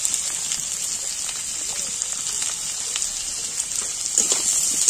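Chopped onion frying in a pan while cooking Bengali dal bora, gima saag and macher jhol, giving a steady dense crackling sizzle throughout with a brief louder flare near the end.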